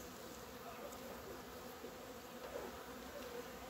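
Honey bees at an opened hive in spring hum in a steady, dense drone, close and continuous with slight swells in loudness.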